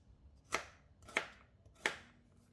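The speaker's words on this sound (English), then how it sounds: "Cut them into smaller chunks for the blender and set aside." Knife chopping lemongrass and young galangal into chunks for a spice paste: three crisp, evenly spaced chops on a cutting board, close and clear, with no talk.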